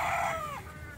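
Mother hens and a rooster kept for cockfighting let out a loud, close, drawn-out crowing call that fades after about a second.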